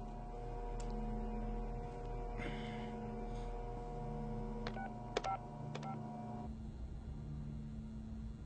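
A telephone is dialed, with several short touch-tone beeps in a quick cluster over a low steady hum and rumble, fairly quiet and with no talking.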